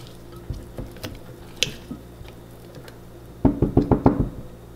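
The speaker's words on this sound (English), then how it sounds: "I'm gonna stir it in a little bit first before I pour" Spoon stirring liquid into a spelt sourdough starter in a jar, a few soft scattered knocks and then a quick run of louder wet, squishy taps near the end.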